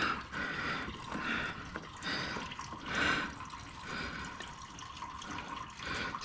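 Coolant drains from an Acura RSX Type S radiator, a soft uneven trickle and splatter of liquid close by, faint and continuous for several seconds.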